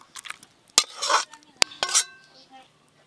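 Egg curry poured and scraped out of a metal cooking pot, giving a few sharp clinks and knocks of a spoon against the pot, close and fairly loud, with soft scraping between them.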